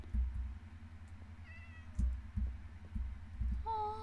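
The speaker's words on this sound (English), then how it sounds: "There's a cat!" A few short, high meows from a cat in the Minecraft video game, heard faintly over low rumbling background noise, with a clearer final meow at the end.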